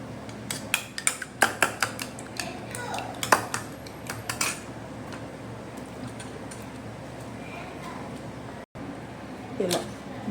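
Spoon scraping and clinking against a bowl while vegetable sandwich filling with rice, beaten egg and cumin is mixed, a burst of quick close taps in the first few seconds, then quieter kitchen background with a couple of later knocks.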